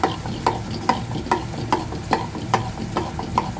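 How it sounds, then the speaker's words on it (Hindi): A whisk or fork beats eggs in a bowl for an omelet, with sharp, regular clicking strokes about twice a second, close and steady, with no talking. "अंडे जितना अच्छे फिटे होंगे ना"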